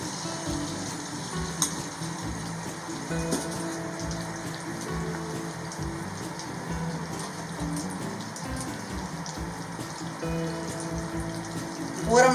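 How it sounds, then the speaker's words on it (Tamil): Paniyaram batter sizzles and crackles steadily in hot oil, a dense close frying hiss that holds for about twelve seconds, with a brief louder burst near the end. "இப்போ நான் வந்து எண்ணெயில் ஊற்றுறேன்."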